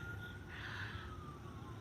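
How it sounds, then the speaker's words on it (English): Faint emergency vehicle sirens wail far away in a flood-hit area, a thin rising and falling tone over low background hum. "Crazy, I hear sirens today."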